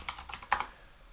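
Quick keystrokes on a computer keyboard while a new project folder is set up, a short burst of clicky taps close by, with one louder key strike near the middle, alone with no talking.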